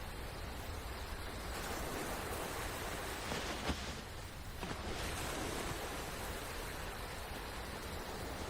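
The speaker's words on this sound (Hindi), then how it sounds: "लहरों की आवाज बहुत तेज है।" Ocean waves surging and washing ashore at night, a steady broadband roar with a faint swell in the middle, heard alone.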